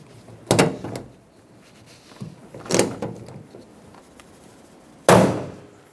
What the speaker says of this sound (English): take your rivet gun, install the appropriately sized rivet, stick it through the handle and through the door, and clamp it on